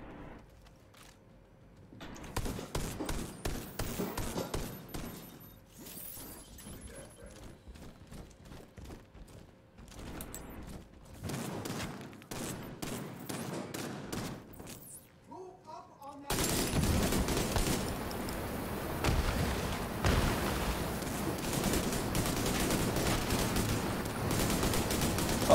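Gunfire rattles through a Division 2 firefight in bursts and single shots, loud and close, with thuds and impacts mixed in and a player's voice talking over parts of the action.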